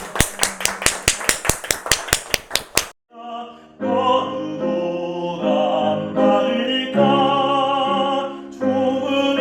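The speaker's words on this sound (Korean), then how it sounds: "우리 하나님께 영광의 박수하고 마치도록 하겠습니다" About a dozen sharp, evenly spaced claps ring out in a church gathering, a crisp rhythmic pulse that stops abruptly before sustained music takes over.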